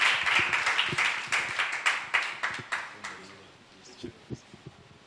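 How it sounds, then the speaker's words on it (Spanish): A church audience welcomes a speaker with a ragged round of clapping that thins out, ending in a few scattered claps, with voices murmuring underneath. "Vamos a recibirle con un fuerte aplauso de cariño en esta tarde."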